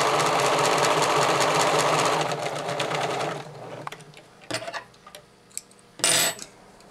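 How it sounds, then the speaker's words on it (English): A sewing machine runs steadily, stitching rows of gathering stitches straight over pins, then stops, leaving a few soft clicks and handling noises of fabric and pins. "Yes, I do sew over pins."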